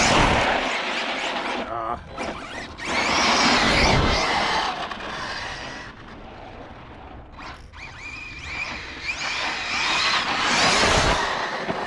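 An Arrma Big Rock 6S RC monster truck drives on worn tires, its electric motor whining and tires scrabbling and squealing in loud bursts that rise and fall over about twelve seconds, with louder surges near the start and end.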